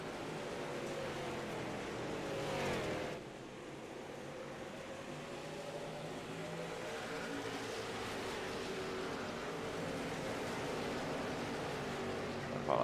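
Race cars circle a track in an iRacing league event, their engines merging into a steady, distant droning roar, with one brief swell of a car passing nearer before the pack noise settles.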